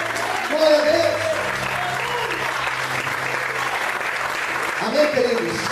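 A church congregation claps steadily for several seconds, a sustained wash of applause with faint voices and tones mixed in.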